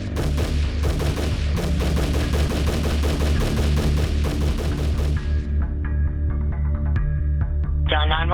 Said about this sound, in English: 154 rounds from a Bushmaster's semi-automatic rifle